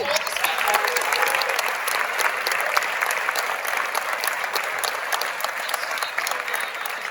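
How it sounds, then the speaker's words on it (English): Conference audience applauding a colleague with dense, even clapping that stays loud and sustained throughout. "Should we do like a round of applause for Zach Nadler?"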